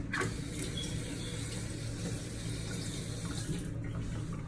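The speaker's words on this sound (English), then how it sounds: "after you peel it, run it under some warm water." Warm tap water runs steadily over a peeled onion at a kitchen sink, a continuous close splashing stream with no talk.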